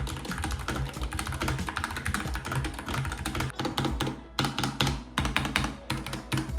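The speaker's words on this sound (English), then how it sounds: "this gaming keyboard the fastest keyboard in the world, but it sounds amazing. Literally just take a listen" Rapid, continuous clacking of mechanical gaming keyboard keys, dense and close-up, with brief gaps in the flurry of keystrokes.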